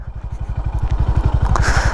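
A Honda Highness CB 350 motorcycle ridden off-road, its engine thumping in a fast, steady rhythm close by, with faint clatter over the running beat.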